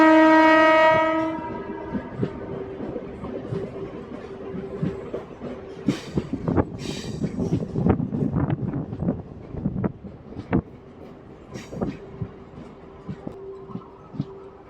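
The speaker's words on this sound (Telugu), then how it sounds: "కోయంబత్తూర్ కుర్లా ఎక్స్ప్రెస్ వస్తుంది చూడండి, కనిపిస్తుందా?" The Coimbatore–Kurla Express passenger train blows a loud horn, then rumbles past close by with steady wheel clatter, sharp rail clicks and gusts of wind noise.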